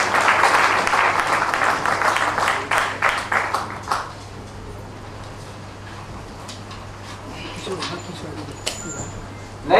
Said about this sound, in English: Please welcome them with a usual round of applause